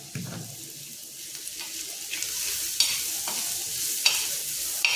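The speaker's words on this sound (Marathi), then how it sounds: "हे आपल्याला सगळं परतून घ्यायचं आहे" Masala with chili powder and kokum is sautéed in a hot pan, with a spatula scraping in irregular strokes over a continuous light sizzle, close and without speech.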